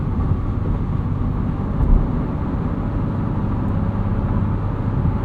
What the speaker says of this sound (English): You can hear on that pavement change from concrete to asphalt.